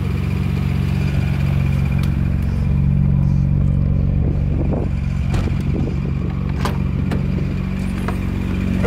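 A Mazda Miata running on a Haltech engine management system, its engine idling and pulling away with a steady low rumble and some clatter, close and continuous with no talk.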